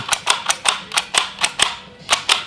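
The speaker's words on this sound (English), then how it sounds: "hold them there and start clicking" A Blitz C20 handheld pricing gun is clicked repeatedly while labels feed through it, giving sharp, evenly spaced mechanical snaps about three per second, close up and with no voices.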